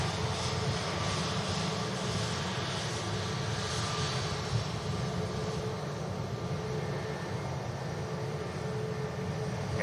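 Aircraft engine noise at Manchester Airport, a steady broadband roar of a new airliner that holds at a constant moderate level throughout, with no voices.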